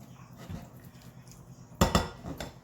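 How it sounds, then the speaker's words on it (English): A spoon clatters against a bowl while chimichurri ingredients are mixed with olive oil, giving a few sharp clinks in a short burst that stand out against quiet kitchen background. "So now we're just mixing it all together."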